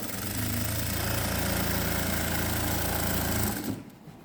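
An electric sewing machine runs a fast, continuous stitching burst along a folded patiala pant hem, steady and close for a few seconds before stopping abruptly.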